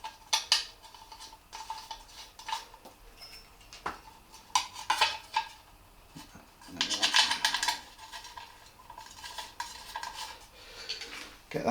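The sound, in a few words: tightening Allen head bolts on Triumph Scrambler 1200 exhaust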